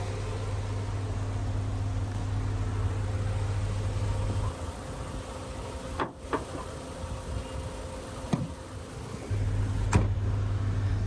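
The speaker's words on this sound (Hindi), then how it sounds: "1200 सीसी इनलाइन 4 सिलेंडर इंजन है ये।" A Suzuki 1200cc inline four-cylinder engine in a Toyota Glanza idles steadily with a low, even hum, broken midway by a few brief clicks and knocks before the drone resumes.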